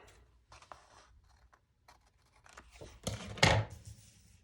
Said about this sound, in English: then I'm only gonna have to cut a little bit off right there